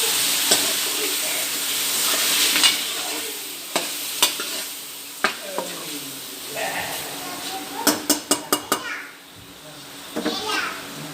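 Masala kaleji, spiced liver, frying and sizzling in a pan, stirred with repeated clinks and scrapes of a utensil, including a quick run of taps, while children's voices chatter in the background.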